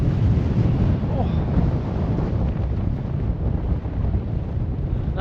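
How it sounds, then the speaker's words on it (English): Cold wind roars steadily across the microphone high on a snowy Glencoe mountainside above the Devil's Staircase in winter, a loud continuous rushing buffet throughout. "That wind's cold."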